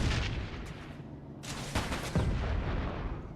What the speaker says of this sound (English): the missiles had a devastating effect